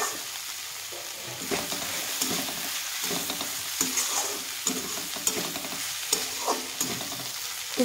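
Yellow pumpkin pieces fry and sizzle in a pan as a spoon stirs and scrapes them now and then, soft steady frying with irregular clinks and scrapes, for a pumpkin halwa.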